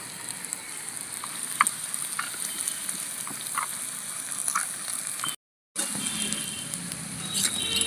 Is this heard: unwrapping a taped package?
no